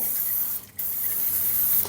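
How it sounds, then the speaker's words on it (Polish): Cooking oil spray hissing into baking dishes in a home kitchen, two close, loud sprays with a short pause between them. "trochę może psiknę tym olejem w sprayu"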